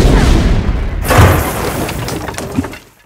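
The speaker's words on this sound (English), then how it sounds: "Fire in the hole!" A loud, booming explosion from a movie trailer erupts with a shattering, breaking crash, then rumbles and tails off into quiet near the end.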